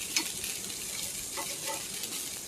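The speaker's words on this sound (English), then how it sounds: "You can hear it start to really sizzle now." Soft, steady sizzling and crackling of meat frying on hot metal, fairly quiet and continuous with a few faint pops.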